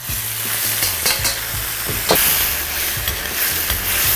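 Eggplant and a splash of water with pickled chili cooking in a hot wok over high heat, a loud, dense, steady sizzle and hiss with occasional stirring clatter, no voices.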